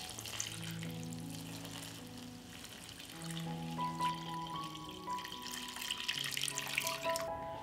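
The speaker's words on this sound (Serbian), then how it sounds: "I dodajem vodu da prekrije meso." Tap water runs steadily into a pot of meat already holding beer, filling it to cover the meat, with a continuous watery rush and faint kitchen clinks alongside.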